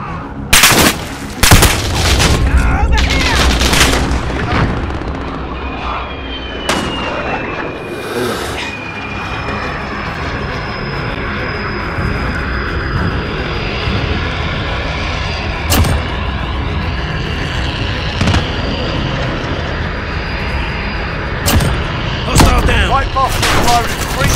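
Artillery strikes in Call of Duty: Modern Warfare land as a series of sharp blasts and gunfire over a steady rumbling battlefield, with occasional radio chatter.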